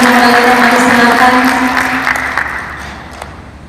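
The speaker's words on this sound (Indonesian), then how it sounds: "Boleh kita angkat dengan tepuk tangan." An audience applauds to welcome a guest at an official opening event, steady dense clapping that fills the space and gradually thins and fades toward the end, with a faint voice underneath.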